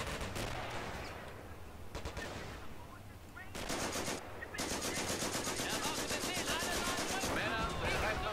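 Rapid machine gun bursts and gunfire crackle through a Company of Heroes World War II battle, loud and sustained, with dense rattling volleys filling most of the stretch and a brief lull near the middle.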